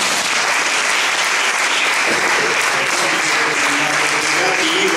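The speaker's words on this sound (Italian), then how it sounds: "Un grande applauso." Sustained, loud applause from a large audience at a public discussion event, an unbroken wash of clapping from start to finish with faint voices underneath.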